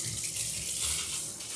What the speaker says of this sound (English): So we'll go ahead and turn on the water.